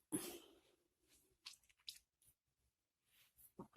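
Close, faint drinking sounds: a few quiet wet sips, gulps and small swallowing squishes separated by pauses, with no talking.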